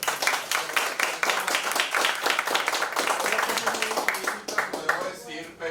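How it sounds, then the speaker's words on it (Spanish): An audience applauds in a dense burst of rapid hand claps that stays fairly loud throughout and thins out toward the end. "Bueno, un aplauso."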